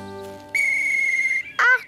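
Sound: blowing a toy whistle in a cartoon

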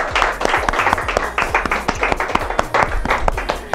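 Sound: people clapping

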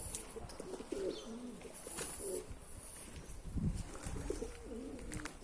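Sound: pigeons cooing in coop

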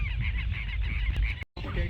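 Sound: southern lapwings (tero) calling

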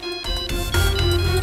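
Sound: phone ringtone, incoming call from a friend

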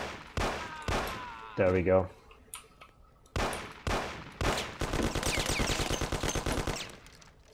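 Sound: gunshots in the Mafia 1 video game

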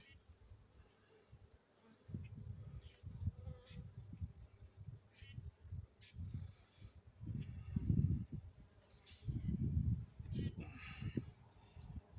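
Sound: honeybees buzzing around hive

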